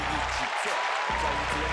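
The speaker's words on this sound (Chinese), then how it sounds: "掌声鼓励一下。" Audience applause fills Taipei Arena during a 2018 Super Star school sports performance show, a dense, steady clatter of clapping that lasts the whole moment with some voices mixed in.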